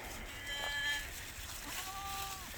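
A herd of goats, with yearling does newly mixed in, bleats in short wavering calls at moderate distance over a steady outdoor background, two separate cries standing out.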